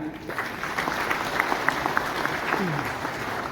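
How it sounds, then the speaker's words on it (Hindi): Loud, sustained applause from a large audience fills a hotel launch event for The Sarayu, a 100-room luxury property in Ayodhya, with dense steady clapping and a voice briefly audible over it. "जोरदार तालियां।"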